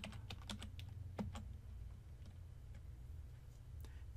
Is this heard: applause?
no